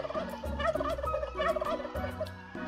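A turkey gobbles in the Roblox game Wacky Wizards, a loud, close, rapid series of warbling gobbles over a layered game soundtrack, with no talking.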